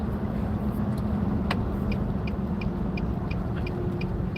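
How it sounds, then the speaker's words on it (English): A truck's engine idles and rumbles steadily on a road nearby, with faint intermittent high chirps or ticks over the continuous low drone and no talking. "Now if that truck will turn out, I can turn in."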